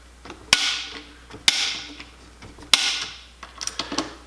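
A Wheeler torque driver clicks sharply while tightening screws on a UTG scope mount's rings, giving three distinct loud snaps spaced about a second apart, followed by smaller ticks.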